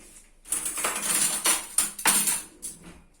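Salsa mixture with olive oil being stirred in a bowl, a spoon scraping and clinking against the sides in a few quick bursts, close and fairly quiet.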